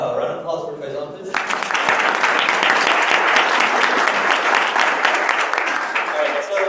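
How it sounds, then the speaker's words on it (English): Audience at a tech event claps steadily and loudly for several seconds, a dense sustained applause that starts after a voice speaking over a microphone and continues to the end. "once again round of applause for Faisal, please."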